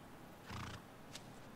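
Horse in the Shadow of the Colossus video game gives a short, close whinny and snort, followed by a brief faint squeal against a quiet background.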